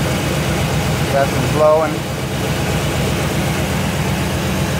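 A 1964 Chevrolet Impala engine runs at a steady idle, a continuous low rumble throughout while someone speaks briefly over it.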